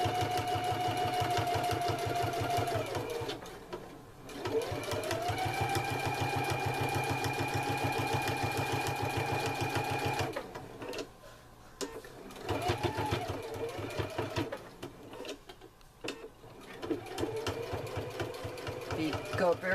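A sewing machine stitches a clothes pin bag in long steady whirring runs with short pauses, sometimes slowing, while someone talks over it.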